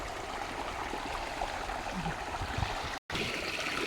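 Water rushes strongly along a stream where fishing nets are set, a continuous close wash and gurgle broken only by a momentary dropout.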